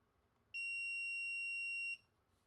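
Multimeter continuity tester touching a wire to the pin inside a power jack: one steady, high-pitched electronic beep lasting about one and a half seconds, close and clear over a quiet background with no talk.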